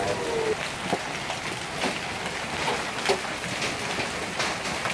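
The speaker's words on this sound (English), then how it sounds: "my truck is getting hammered right now. Hammered with hail." Golf-ball-sized hail pounds a truck in a hard, steady hiss of impacts, with sharper individual strikes popping out now and then.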